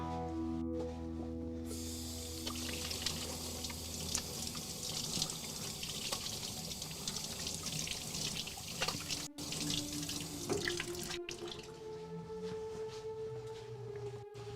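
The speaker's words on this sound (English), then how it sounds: "I'm gonna wash my hands real quick" Hands are washed under a running sink tap, a steady close rush of water with light splashing that continues throughout, alone without talk.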